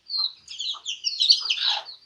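Brown hen settled with her chicks, giving soft repeated clucks mixed with thin high peeping from the young birds, moderately close and steady with no voices.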